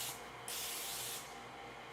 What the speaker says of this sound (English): Just cooking canola oil cooking spray.